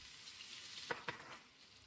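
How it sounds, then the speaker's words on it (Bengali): Soft, steady sizzling of chopped onions frying in the same pan used for pabda fish, faint and even, with two brief clinks partway through. "পেঁয়াজগুলোকে আমি একটু হালকাভাবে লাল করে নিব"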